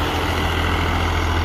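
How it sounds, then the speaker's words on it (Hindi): A 2022 New Holland Ghazi 65 HP tractor engine runs with a steady low rumble, close and continuous over the short stretch. "2022 मॉडल गाजी ट्रैक्टर"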